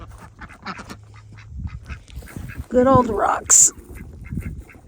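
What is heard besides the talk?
ducks quacking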